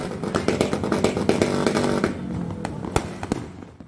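Dense crackling bursts of New Year firecrackers and fireworks pop rapidly, some sharp bangs standing out, thinning toward the end.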